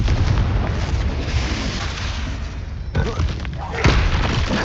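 A Confringo fire-blast spell bursts in Hogwarts Legacy as a loud, dense rumbling explosion that rolls on, with sharper booms kicking in near the three- and four-second marks.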